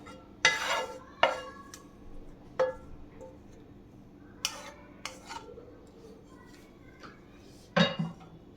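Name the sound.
stirring caramelised pineapple into yogurt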